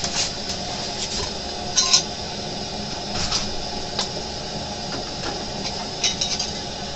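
Glass canning jars and lids being set into a pot of water for water bath canning, giving occasional light clinks and knocks over a steady background hiss, with no talking.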